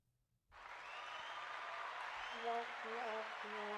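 Soundboard applause effect that bursts in after a brief silence and holds as a steady crowd clapping wash, with a faint tonal sound entering near the end.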